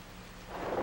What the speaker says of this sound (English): There was a clap of thunder.